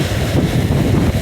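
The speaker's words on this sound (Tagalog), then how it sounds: "Lakas ng hangin, panay bagyo na." Strong typhoon wind roars loud and steady into the microphone, a dense low buffeting rumble with no voices.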